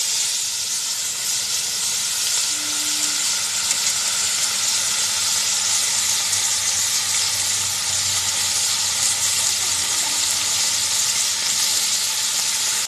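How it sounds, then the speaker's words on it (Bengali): About 100 grams of small chuno fish fry in hot oil in a pan, a loud, close, unbroken hiss and sizzle that holds steady throughout, with no talking. "এবারে আমি মাছগুলোকে ভেজে নেব।"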